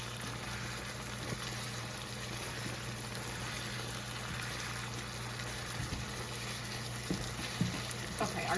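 Pasta noodles boil in a pot on a stove, a steady low bubbling and simmering hiss throughout with occasional soft clinks, no talk.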